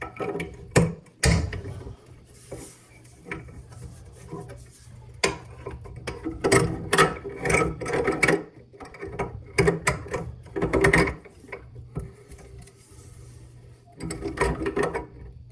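Wrench working on a toilet shut-off valve stem during a rubber washer repair, with irregular metallic clicks, ratcheting taps and clunks scattered across the clip, close and moderately loud.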